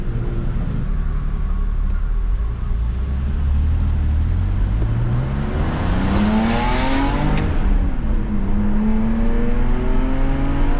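A BMW E46 engine with aftermarket headers revs up steadily, its pitch climbing and falling in a throaty, loud rumble close by, with a raspy exhaust note.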